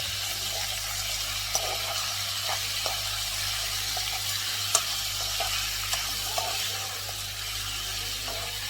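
Cubes of beef sizzle steadily in a hot pan, a constant close frying hiss with occasional soft clicks and scrapes as a utensil stirs them.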